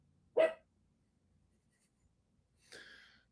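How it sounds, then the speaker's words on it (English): A sleeping dog gives two soft, muffled barks about two seconds apart, with near silence between them. "Brady, no barking even in your sleep, buddy."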